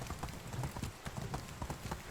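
A ridden horse's hooves clip-clop steadily across a field in the game Medieval Dynasty, a quick even rhythm of soft thuds heard close, with no talking.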